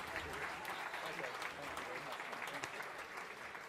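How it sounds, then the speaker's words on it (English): A gala audience gives sustained applause for Enterprise Fleet Management. The steady wash of clapping sounds fairly distant and even, and faint talk runs under it. "Please give a huge round of applause to Enterprise Fleet Management for the support of the Children's Village"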